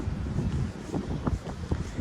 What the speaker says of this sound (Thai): อันนี้ลมแรงมากเลยค่ะ